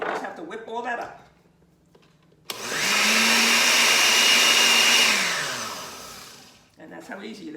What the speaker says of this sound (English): You use a blender.